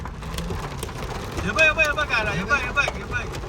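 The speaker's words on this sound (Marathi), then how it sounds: "फुल गारा पडतायत आणि रास पाऊस आले" Heavy rain mixed with hail pours down during the Ekvira Aai palanquin procession, a steady broadband hiss and patter throughout, with a voice speaking over it in the middle.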